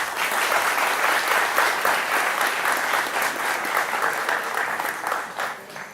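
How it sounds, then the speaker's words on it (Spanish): An audience in Jaina breaks into loud, dense applause, many hands clapping together for several seconds before it begins to taper off, with no voices over it. "a quienes pido antes de empezar a hablar un fuerte aplauso"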